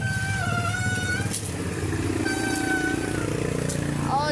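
A motorcycle engine runs and idles with a steady, rough, buzzing drone, rising slightly at times, while people talk nearby over it.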